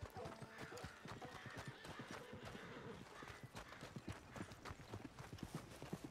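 Horse hooves clip-clop steadily along with a whinny, close and fairly loud, over a busy background of ambient game sound in Red Dead Redemption 2.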